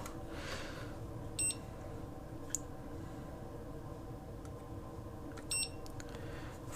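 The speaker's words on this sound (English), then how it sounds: "set the timer." A kitchen timer being set for 40 minutes during bread dough making, giving two short beeps a few seconds apart and a couple of faint clicks over quiet room hum.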